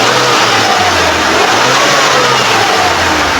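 A 2012 Suzuki Carry Futura pickup engine is held at high revs around 4000–5000 RPM, giving a loud, steady, close mechanical drone with slight wavering pitch and no talk.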